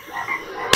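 A celebrity imitates a frog croak with her voice, a single brief, buzzing, wavering croak ending in a sharp burst.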